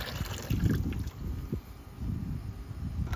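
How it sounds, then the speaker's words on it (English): Water sloshing and splashing as it is poured out of a Pentair iChlor 30 salt cell into an acid bucket, a close, uneven low gurgle with brief surges and no talk. "I'll spill all this into my acid bucket."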